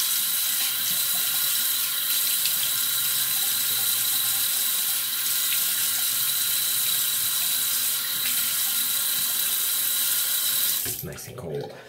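Cold water runs steadily from a bathroom tap while someone wets their face before a shave with a Kamisori shavette, a continuous close splashing hiss that cuts off abruptly at the end.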